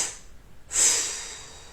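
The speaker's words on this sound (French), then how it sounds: "On expire, on souffle 3 fois." Breath blown out forcefully during a morning yoga session. One strong, close exhalation follows a softer breathy start, and the later puffs are not clearly separate.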